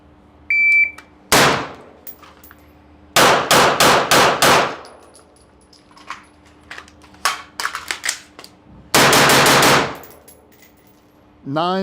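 Pistol shots crack on an outdoor shooting range during a fast shooting drill, loud close bursts in quick rapid strings separated by pauses, with faint metallic clinks between volleys.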